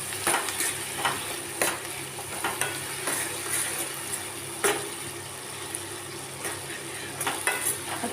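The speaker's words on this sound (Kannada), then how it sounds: "ಸ್ವಲ್ಪ ಕರಿಬೇವು, ಸ್ವಲ್ಪ ಕೊತ್ತಂಬರಿ ಸೊಪ್ಪು ಇದು ಚೆನ್ನಾಗಿ ಫ್ರೈ ಮಾಡ್ಕೊಳ್ಬೇಕು" Curry leaves and coriander fry in a pan for puli chutney, giving a steady soft sizzle broken by periodic scrapes and clinks of a spoon stirring against the metal.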